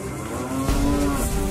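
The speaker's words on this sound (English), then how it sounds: "Two cows crossed Edward's path." Cows moo in a deep, drawn-out low call near a railway track in a toy train scene, sounding close and loud against a steady background.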